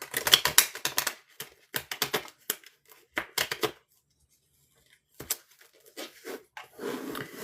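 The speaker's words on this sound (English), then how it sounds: "My shuffling is impacted by this." Rapid riffling bursts of cards snapping together, repeated several times with short pauses between, close and crisp.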